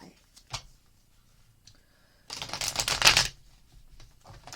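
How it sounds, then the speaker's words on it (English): Tarot cards being shuffled and pulled: a quick riffling burst of papery clicks, with scattered single card snaps before and after and a voice speaking at times. "Let's go ahead and pull some more cards."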